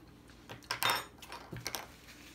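Light metallic clinks and taps of a spoon against dishes while peach cobbler dump cake filling is tasted, a few quiet close knocks with pauses between.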